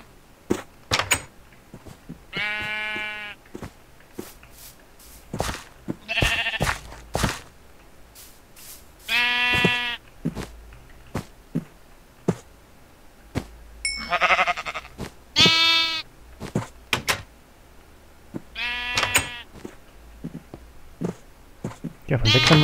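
Sheep in the video game Minecraft bleat repeatedly, each wavering call standing out clearly, spaced between sharp clicks and thumps of in-game actions.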